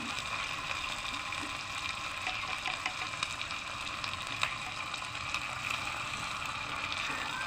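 Chicken pieces fry in a pot for a chicken rezala, giving a continuous close crackling sizzle with faint spattering pops, steady and even throughout without talk.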